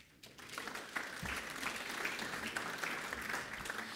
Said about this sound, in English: Oh, we can give them a round of applause, sorry.